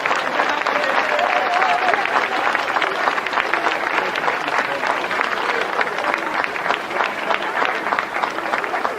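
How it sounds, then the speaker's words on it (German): Warm, steady applause from a crowd at a long-table street festival in Cologne, dense and even throughout with an undercurrent of crowd murmur. "die kriegen jetzt von uns einen ganz warmen, herzlichen Applaus"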